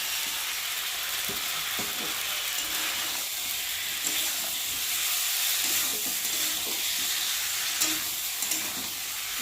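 Fried eggplant in spiced tomato masala sizzles steadily in a hot pan, a continuous bright hiss with occasional soft stirring scrapes, close and even throughout.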